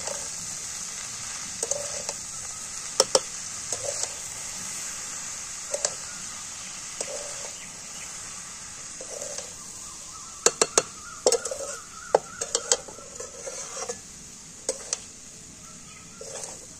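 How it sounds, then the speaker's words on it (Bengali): A spoon stirs and mixes cooked rice with sugar in a pan over a gas flame, giving soft scattered clinks and scrapes over a steady background hiss, with a quicker cluster of metallic taps toward the end. "এখানে ভাতটা ভালো করে একটু মিশিয়ে নেব"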